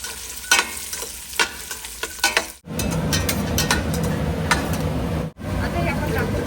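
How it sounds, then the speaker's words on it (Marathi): Peeled almonds and cashews fry in a pan, at first with scattered spatula clinks and scrapes, then a loud dense sizzle and hiss that holds steady close by, briefly cutting out once. "आपण आधी हे छान परतून घेऊया"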